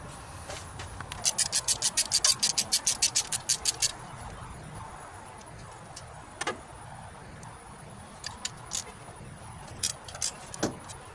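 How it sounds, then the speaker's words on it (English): Bolts on the intake manifold of a small block Chevy engine in a 1972 Nova are loosened with a ratchet, producing a rapid run of sharp metallic clicks followed by scattered shorter bursts, close by with no speech. "we can start by removing all the intake manifold bolts"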